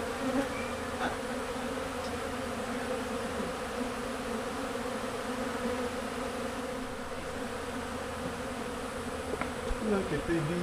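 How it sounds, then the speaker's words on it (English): Many honeybees buzz continuously in a thick, even hum during a honey extraction, with occasional individual insects passing close by. "Look at the bees."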